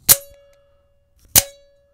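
Two loud metallic snaps about a second apart as a Boker Lhotak OTF knife blade deploys, each followed by a brief ringing tone, with silence between them.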